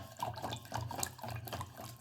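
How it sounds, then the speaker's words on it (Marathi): Buttermilk sloshes and splashes in rhythmic bursts as a wooden churner is twirled back and forth in a pot. "आता ते छानपैकी आपल्याला उसळून घ्यायचं आहे हे बघा आता रवीच्या सहाय्याने आपण हे ताक"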